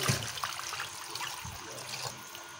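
Water is poured into a pot holding chicken and spices for yakhni pulao, a short, soft splashing trickle heard close up and alone.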